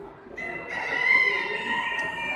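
A Minorca chicken in a double show coop at a fall poultry show gives a clear, fairly close crow, a sustained tonal call heard over a low murmur of the hall.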